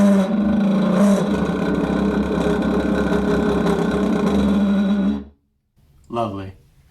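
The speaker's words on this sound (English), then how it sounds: "let's watch the propeller just for fun. Let's just crank it up to see how fast it goes." A tiny homemade boat's small propeller motor runs at full speed with a loud, steady, close whine and hum for about five seconds, then cuts off abruptly, followed by a brief voice.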